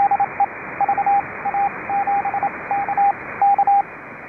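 Morse code CW on an amateur radio net: a single clear tone keyed in short and long beeps in an irregular dot-dash rhythm, crisp over a hissy band-limited radio background.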